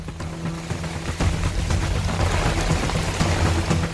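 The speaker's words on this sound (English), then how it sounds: "The Met Department has predicted heavy rains for Chennai and adjoining regions" Heavy cyclone rain pours down in Chennai with a loud, steady hiss of drops hitting surfaces. A low engine hum runs underneath the whole time.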